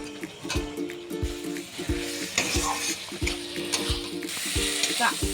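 Fried potatoes with yogurt are stirred in a pan for crab curry, with a spoon scraping and knocking against the metal in a quick, regular rhythm over a soft continuous sizzle, close and alone.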